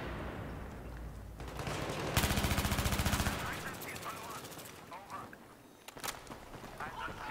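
Rapid automatic fire from an MTAR-21 rifle in Battlefield 3 close-quarters combat, a fast dense burst for about a second, then scattered distant shots and game noise, with someone speaking throughout.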